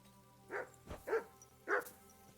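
Dog barking in the medieval video game Kingdom Come Deliverance II, three distinct mid-pitched barks spaced roughly half a second apart over a low ambient background.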